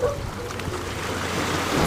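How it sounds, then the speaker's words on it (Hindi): Rushing water roars in a steady, dense wash of noise that holds for the whole moment, close and loud with no voices. "पानी का जो है ना शोर"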